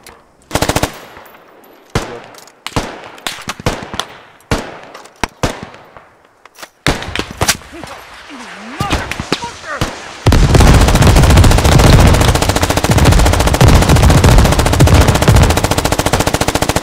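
Gunfire in the military shooter Squad, scattered sharp single shots and short bursts near and far, building into a loud, sustained barrage of continuous automatic fire in the latter half.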